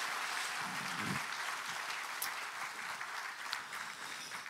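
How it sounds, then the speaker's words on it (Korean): Sustained crowd applause at the 70th anniversary ceremony of the Democratic Party of Korea, a dense steady patter of many hands filling the hall at an even level with no voices on top. "함께 자축의 박수를 보내주시기 바랍니다"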